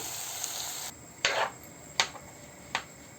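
Chicken frying in a pan gives a steady close sizzle that cuts off, followed by three sharp scraping stirs at regular intervals, with no talking.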